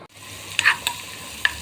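Garlic, coriander and green chili sizzling in ghee as a tempering, a steady close hiss with a few sharper crackles and pops spaced across it.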